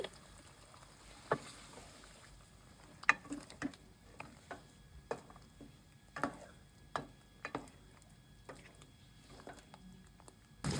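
Spatula stirring chicken and spice paste in a pan for a Pakistani chicken montaj, heard as quiet, scattered clicks and light scrapes at an irregular rhythm with no talking.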